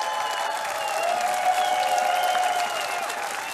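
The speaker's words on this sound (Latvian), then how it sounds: "Paldies, aplaus Ingusam." An audience at the Latvian TV show Zvaigžņu lietus applauds for bartender Ingus, a steady, dense wash of clapping that holds at full strength for several seconds with no talk over it.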